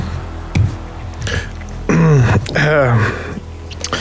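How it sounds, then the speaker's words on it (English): A few short throaty noises, then two longer rough, voiced throat-clearing sounds up close, loud and gravelly, with a brief pause between them. "you would start it with clearing your throat"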